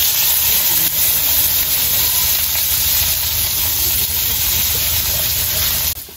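Hot cooking oil hisses and sizzles in a pan while onion and garlic fry for a light meat tuna dish, a continuous loud steady frying hiss that cuts off abruptly at the end.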